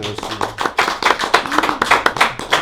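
A small group at a Masonic gathering claps briefly, with individual hand claps clearly separable in an uneven, close patter that rises and dips over a few seconds.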